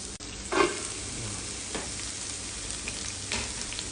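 Onions hitting hot oil and fat in a pan for Bahraini ghouzi rice, giving a steady hissing sizzle up close, with a sharp burst of crackle near the start and a few clinks of stirring.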